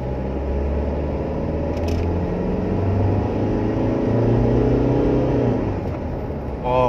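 A Mitsubishi Pajero Sport Dakar Limited Edition engine climbs in pitch toward 3,500 rpm on kick-down, with turbo whoosh audible from inside the cabin as a steady, loud droning rumble.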